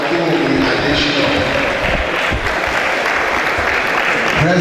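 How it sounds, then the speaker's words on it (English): Loud, sustained applause from an audience at a 100th anniversary school celebration, greeting Dr. Akinwumi Adesina, President of the African Development Bank, dense clapping filling the whole stretch without letup. "The applause is louder for Dr. Akinwumi Adesina,"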